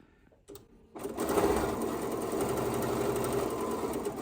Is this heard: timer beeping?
no